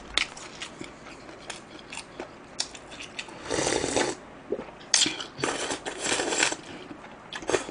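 Fast, noisy chewing from someone eating a Korean school-lunch-box style meal, with close, wet smacking and crunching bites in irregular bursts, some pauses between mouthfuls and no talking.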